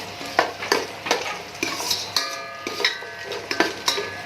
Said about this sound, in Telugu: ఒక 10 జీడిపప్పులు తీసుకోండి. ఇవి జస్ట్ ఫ్రై అవ్వాలండి, సరిపోతుంది.